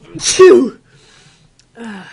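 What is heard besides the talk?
sneeze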